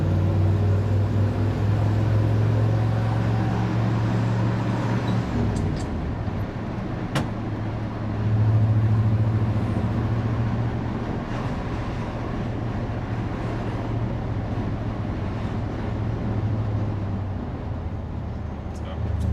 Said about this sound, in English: let me try the brakes again on the straightaway